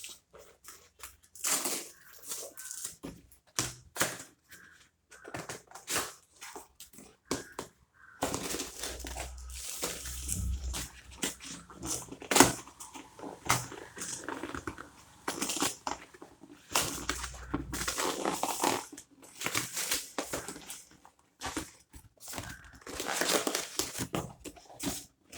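Packaging for a new sport shoe is handled and opened, giving repeated crinkling, crushing and rustling bursts at close range that come in irregular clusters with short pauses between them.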